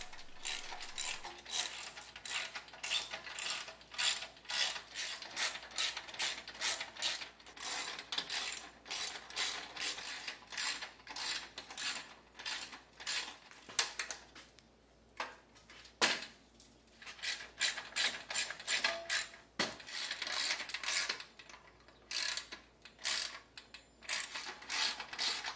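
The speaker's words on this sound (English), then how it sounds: "Next, tighten down all this hardware." Ratcheting wrench work tightening down bolts on a 500 lb capacity wheelchair and scooter hitch carrier, steady rapid clicking bursts up close with brief pauses, no talking.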